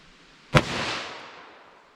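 A single .357 Magnum gunshot firing Federal Hydra-Shok ammunition at an outdoor range, one sharp loud crack followed by a long fading echo, close by and with no talk.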